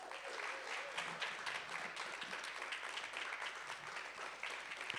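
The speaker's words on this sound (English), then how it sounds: "Can we get a round of applause, please?" Audience applause welcoming a poet to the stage at an online poetry jam, a faint, steady wash of clapping that continues evenly for the whole stretch, quiet and somewhat distant.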